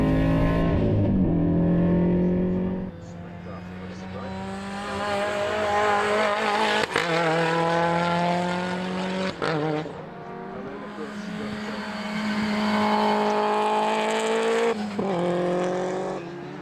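A race car laps Hampton Downs circuit chasing an Evo. The engine note rises and falls through gear changes with tyre squeal, close and loud, and dips briefly between hard pulls.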